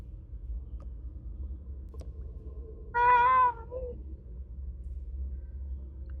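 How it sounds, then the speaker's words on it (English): A distressed cat meows once from inside a tower during a tabletop role-playing session, a single clear harmonic cry over a low steady background hum. "you're close enough to hear the distressed meowing coming from inside the tower"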